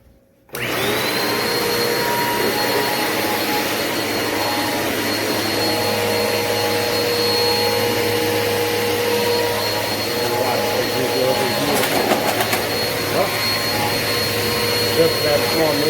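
Steady, loud motor whine of a running Eureka PowerSpeed bagless upright vacuum cleaner, a constant droning hum with a high whistling tone that continues unbroken, with slight handling clatter partway through.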